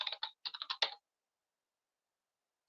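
A search term typed on a computer keyboard: a quick run of about eight crisp, close keystrokes in under a second, then silence.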